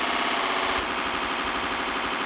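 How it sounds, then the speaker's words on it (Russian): A small electric motor on a mini belt grinder hums steadily, its pitch dropping partway through as the speed is turned down at the power supply, loud and close with no talking. "Включаем двигатель и на блоке питания убавляем обороты."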